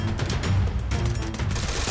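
Rapid, dense gunfire and explosions from a fast-paced online shooter match, with weapon bursts and grenade blasts crowding together loudly and continuously in a busy, cluttered mix with no voices.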